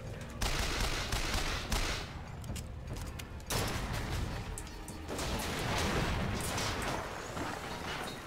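Defense turret gunfire in the game Bioshock Infinite, dense sustained bursts of rapid shots and booming blasts that rise and fall in waves throughout, loud and close.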